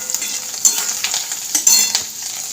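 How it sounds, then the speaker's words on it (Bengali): Onion stalks fry in a pan with a bright, continuous sizzle, broken by several scraping stirs and clinks of a utensil against the metal. "পেঁয়াজ কলি ভাজা চাপিয়ে দিলাম"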